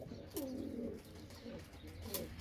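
Soft dove coos, a few low hooting calls in a short rhythmic phrase, repeated over steady outdoor background noise.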